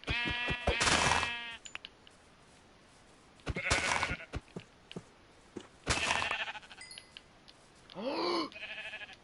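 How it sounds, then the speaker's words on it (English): Sheep in a Minecraft game bleat in four separate wavering calls spaced a couple of seconds apart, clear and close, with quiet gaps between them and no talk. "I'm gonna kill these sheep real quick."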